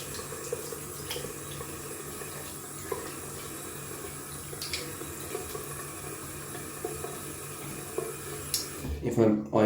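A tap runs steadily into a sink as a Gillette Slim adjustable safety razor is rinsed, the flow continuous and fairly quiet, ending in a brief clatter at the close.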